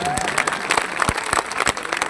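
Clapping crowd at a political rally in Jahanabad, a burst of many hands beating fast and loud, with shouted voices mixed into the applause.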